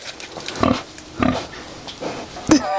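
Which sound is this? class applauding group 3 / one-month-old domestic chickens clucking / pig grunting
pig grunting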